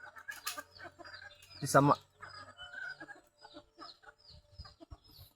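Pet chickens cluck and squawk while being chased, with one loud squawk standing out among softer scattered clucks and scuffling, and a person briefly speaking.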